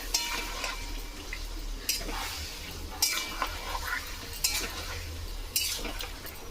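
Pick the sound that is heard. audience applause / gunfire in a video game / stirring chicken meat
stirring chicken meat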